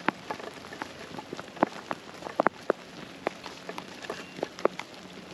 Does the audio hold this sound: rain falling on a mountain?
yes